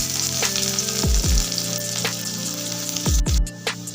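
Chopped garlic sizzles in hot oil in a Bengali garlic chicken dish, a steady loud frying hiss with a few soft thumps and scrapes as pieces drop and are stirred.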